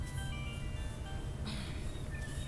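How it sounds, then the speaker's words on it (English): A phone alarm plays a looping tonal melody, fairly quiet, over a soft background hiss with no speech. "That's my alarm."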